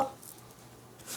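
A deck of cards is cut for a card reading, giving a soft, brief riffle and tap at the start and a light shuffle at the end, quiet and close with near silence between.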